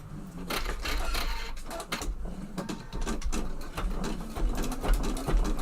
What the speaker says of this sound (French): la machine va passer plusieurs fois dans chaque impact d'aiguille